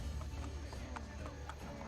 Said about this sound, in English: Oh, she's being bullied by a horse.